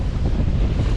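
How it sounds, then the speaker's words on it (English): A strong wind of about 17 to 18 knots on a boat at sea near the Bay Bridge Tunnel, a loud, constant roar of wind buffeting the microphone with water noise beneath, no voices. "You can see this wind really came in."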